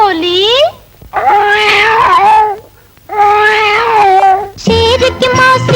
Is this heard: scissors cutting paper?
no